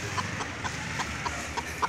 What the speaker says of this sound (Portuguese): Esse galo aqui é filho do...